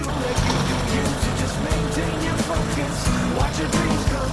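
A car on a mountain road with snow chains fitted, its engine droning steadily up close as it climbs, a continuous low rumble with faint rhythmic thumps.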